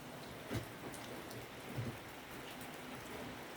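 Steady, faint patter of rain falling on a surface, with a couple of slightly heavier drops standing out.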